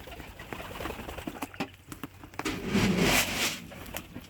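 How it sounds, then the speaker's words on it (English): A couple of birds leave a coop on a freezing winter day, with soft cooing and light scratchy patter, then a louder fluttery rustle of wings near the end. "That would be a couple birds coming out of the coop."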